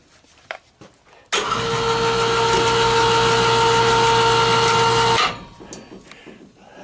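A 110 volt, 1760 lb electric hoist winch lifts a load on a tripod, with a steady loud motor whine and hum that starts abruptly, runs evenly for about four seconds, then cuts off.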